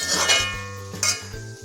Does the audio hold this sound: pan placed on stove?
yes